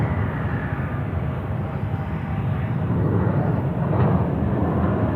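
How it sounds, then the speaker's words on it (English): An American Airlines Airbus A321 at Charlotte Airport gives a continuous low rumbling roar that builds slightly toward the end, heard from a moderate distance with no talk. "There comes American Airlines. 321, oh yeah, buddy."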